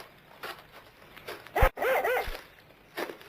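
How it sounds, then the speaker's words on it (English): A dog on a country road barks excitedly, a few quick yaps clustered in the middle with a soft rustle before and after, fairly close. "what's the matter with your dog?"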